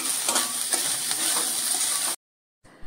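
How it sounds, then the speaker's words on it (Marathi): Coconut, onion and garlic for Malvani amti roast in a pan, a close, even crackling sizzle with light stirring taps, cut off abruptly into silence before faint frying resumes. "आता हे सुद्धा खमंग परतून घ्यायचं"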